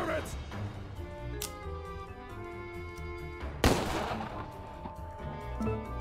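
Shotgun blasts in the Empire of Sin game, with one sharp loud shot standing out over game music and a few fainter shots.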